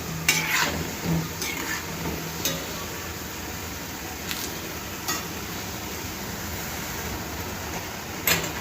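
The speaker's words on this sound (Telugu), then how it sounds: "మంచి బ్రౌన్ కలర్ వచ్చే వరకు వేయించుకోవాలండి మీడియం ఫ్లేమ్ మీద" Green gram pakodi fry in oil over a medium flame with a steady, close sizzle and occasional clinks of a utensil against the pan. No one speaks.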